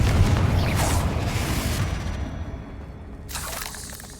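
A Confringo blasting spell from the Hogwarts Legacy video game bursts with a loud, booming explosion that rolls and fades over a few seconds, with a brief crackling flare near the end.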